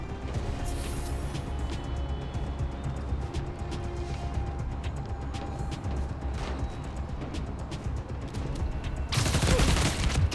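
Gunfire rattles through Spider-Man: Miles Morales, scattered bursts and single shots crackling over a busy bed of combat effects, growing denser and louder near the end.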